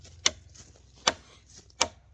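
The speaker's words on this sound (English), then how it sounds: "this was a dead standing aspen that I'm chopping on" A lightweight Dispatch knife chopping into dead standing aspen wood: three sharp, close woody thwacks spaced about a second apart, each a crisp impact over a low background hum.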